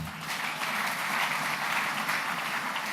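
A church congregation breaks into steady, sustained applause in praise of the Lord, a dense wash of many clapping hands filling the room with no voices rising above it.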